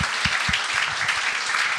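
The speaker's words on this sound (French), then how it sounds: "J'aimerais ça qu'on les applaudisse." A comedy-show audience claps for a couple of seconds, a dense patter of many hands at moderate distance, fairly steady and unaccompanied by speech.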